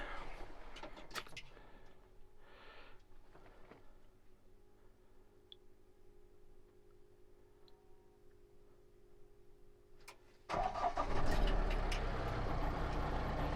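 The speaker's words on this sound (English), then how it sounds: "That's the one thing I love with these diesel engines." A Mahindra Roxor diesel engine idles steadily just after starting, a low even rumble with faint ticking, ending in a sudden louder burst of engine noise near the close.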